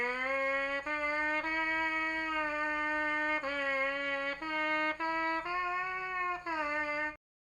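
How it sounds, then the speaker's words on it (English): Pitchy buzzing on a trumpet mouthpiece alone, a steady nasal tone held for about seven seconds with several brief breaks and small wavering pitch shifts, fairly loud and close with no talking. "So if your mouthpiece buzzing sounds like this,"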